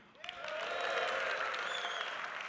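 An audience breaks into clapping that swells quickly and holds steady, with a few high whistles or whoops riding over the crowd.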